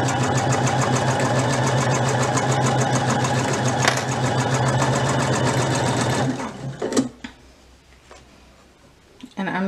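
A sewing machine runs steadily while top stitching a belt, a loud continuous mechanical whir with rapid needle ticks that stops abruptly, followed by a few handling clicks and quiet room sound.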